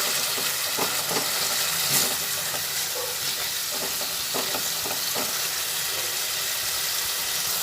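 Chhana and spices frying in a pan for a pointed gourd dish, a steady close sizzle with intermittent soft scraping strokes of stirring.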